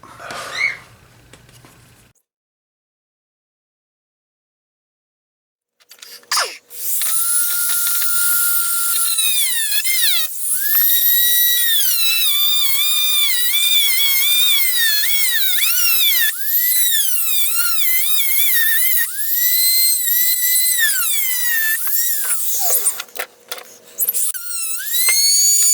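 Dremel rotary tool cutting small Hot Wheels roll cage parts, a loud high-pitched whine that rises and dips in pitch as it bites, running steadily for most of the clip after a brief start and silence.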